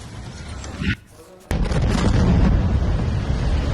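Heavy blasts from Israeli airstrikes on Beirut: a loud rumbling roar cuts off abruptly, then a sudden boom breaks in and gives way to a sustained, dense wall of low rumble.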